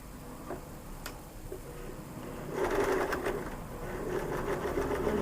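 A domestic sewing machine runs at the fabric edge sewing a backstitch, starting with faint ticks and then a steady whirring hum with rapid needle clatter from halfway through, close by with no talking.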